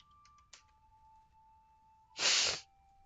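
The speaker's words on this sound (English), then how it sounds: "nothing like the sniffles" A single loud, close sniff or snort through a congested nose, brief and sharp, following a few faint clicks over a quiet background hum.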